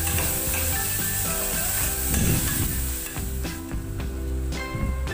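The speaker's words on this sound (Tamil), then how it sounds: "தக்காளியும் நல்லா வதங்கட்டும்" Finely chopped tomatoes sautéing in a pan for a restaurant-style mixed vegetable gravy: a soft, steady sizzle with light stirring and rubbing, heard under background music.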